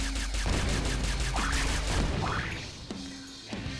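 Bursts of enemy gunfire in the video game Wild Wastelands, rapid repeated shots in clusters with whooshing projectile sweeps between them, loud and close, without speech.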